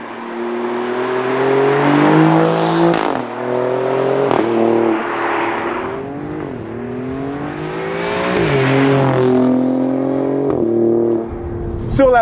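A 2021 Alfa Romeo Giulia Quadrifoglio V6 revs hard on an open road, its engine note climbing and dropping through repeated gear changes, loud and close throughout.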